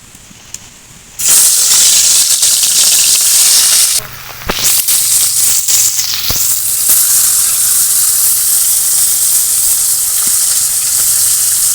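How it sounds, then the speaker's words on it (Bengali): Fish fries in mustard oil in a wok, a loud, dense sizzling hiss bursting in suddenly and holding strong and close, dipping briefly before settling into a steady roar of frying. "কড়াইয়ের মধ্যে দিয়ে দিলাম সরিষার তেল মাছগুলো প্রথমে ভেজে নেব"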